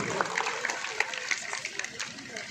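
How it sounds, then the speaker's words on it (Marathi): Audience applauding for two wrestlers at an outdoor wrestling ground in Shinde, Ahmednagar district: steady, dense clapping from a crowd with sharper individual claps popping out, voices murmuring underneath. "सगळ्यांनी टाळ्या करा दोन्ही पैलवानसाठी"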